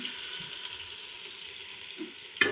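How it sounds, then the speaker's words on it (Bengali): Ginger, garlic, onion and bay leaf fry in a little oil in a pan for beef-fat khichuri, a soft steady sizzle with a few louder crackles near the end, no voices. "তারপর আদা, রসুন, পেঁয়াজ, তেজপাতা সহ দিলাম"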